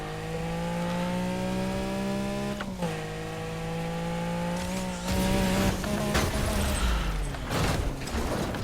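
A brand-new Lamborghini in Need for Speed Heat, engine droning loud and steady with rising pitch through gear shifts, then harsher roaring and tire noise in the final seconds, with no talk.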